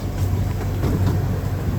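A low, steady rumble of a small amusement park train at Knoebels pulling out of the station, close and continuous, with a faint clatter of wheels.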